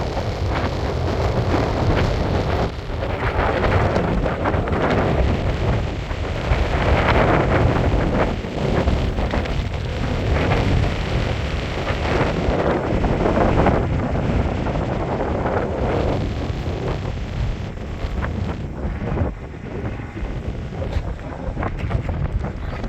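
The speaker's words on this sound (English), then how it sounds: "So windy." Strong wind on the crater rim of Mount Vesuvius buffets the microphone in a steady, roaring rush, with a deep rumble and gusts that swell and ease throughout.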